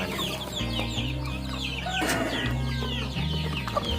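Several domestic Thai village chickens clucking steadily at close range, with a few sharper bird calls scattered through the busy farmyard background.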